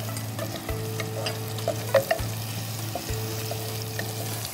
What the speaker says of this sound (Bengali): পেঁয়াজ কুচিটা একটু ভাজা হলে পরে পেঁয়াজ বাটা দিবে।